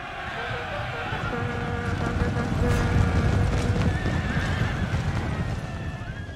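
Horses neigh and gallop with steady clip-clopping hooves during a cavalry clash of lancers in the video game Napoleon Total War, loud and continuous under a busy battle din.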